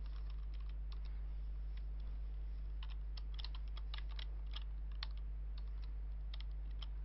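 Fingers typing on a computer keyboard, a scattered run of light, close clicks that come in uneven bursts over a steady low electrical hum.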